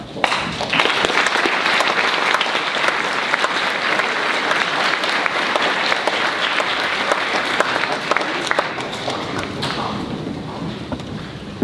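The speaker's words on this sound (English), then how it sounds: "Could you all give the boys a round of applause?" School speech day audience applauds junior award winners, sustained loud clapping from a large crowd with sharp individual claps throughout, thinning slightly near the end.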